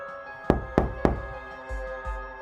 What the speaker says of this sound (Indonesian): aku terbangun karena suara ketukan pelan di pintu